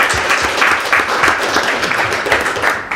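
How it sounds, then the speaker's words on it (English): A huge round of applause for a sponsor at a crowdfunding event, steady dense clapping from an indoor audience that holds at a loud level for about three seconds with no speech over it. "A huge round of applause for our sponsor."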